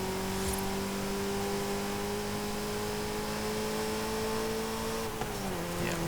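An inline-four car engine in Forza Horizon 5 holds a steady high-pitched drone at high revs, then its pitch drops briefly near the end, loud and close with no talking.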